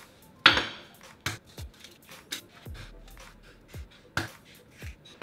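Several sharp cracks of three eggs against a bowl rim in a home kitchen, spaced irregularly with small clinks and soft taps between, close and clear with no talking.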